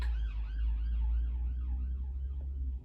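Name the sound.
ambulance or police siren passing a house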